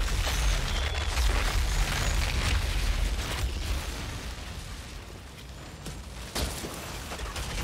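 Scrap grenade explosions in the sci-fi shooter Outriders, a dense, continuous roar of blasts and booming bursts with a sharper burst near the end, loud and close with no talk.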